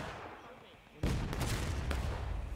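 Artillery fire booms in a Civil War battle game at Burnside's Bridge, a sudden loud barrage breaking in after quieter rumbling, with continuing cannon and musket fire and a voice talking over it.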